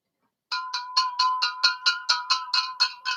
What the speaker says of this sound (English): Listen to that nice glass that they're using in Louisville. It chimes.